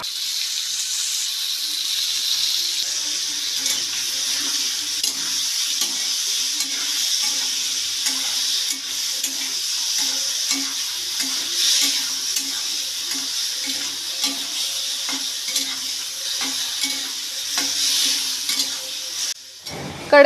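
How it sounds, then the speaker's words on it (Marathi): Prawns fry in hot oil in a pan, sizzling steadily and close by for the whole stretch, while a spoon stirs them with repeated soft scraping and tapping and no one speaks. "आता हे मी एकत्र जीव करून ही पण कोळंबी थोडीशी फ्राय करून घेणार आहे"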